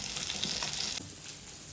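Pomfret fish pieces and eggs fry in a pan, a steady close sizzle with faint stirring or turning sounds that softens slightly partway through.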